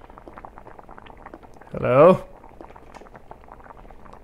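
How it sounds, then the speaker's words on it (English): A pot boils in the horror video game The Witch's House, its soft continuous bubbling running low in the background while a single short spoken word cuts in briefly. "Pot is boiling."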